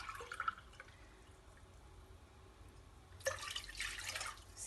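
Water poured into a cup in a home kitchen, a quiet faint trickle early on, then a brighter, louder splashing pour over the last second and a half.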